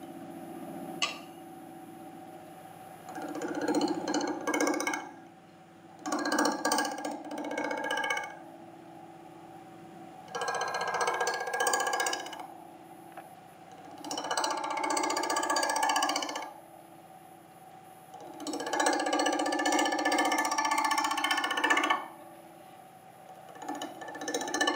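A kuksa cup turns on a wood lathe as a gouge cuts in repeated bursts of harsh, ringing scraping, each lasting a few seconds and separated by quieter pauses with the machine humming underneath.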